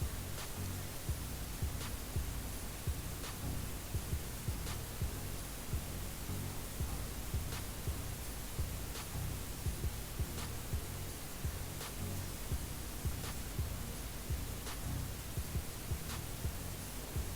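A sewing machine stitches across the fabric of an old dress, a fast steady whirring hum with faint regular ticks recurring about every second, continuous and close with no talking.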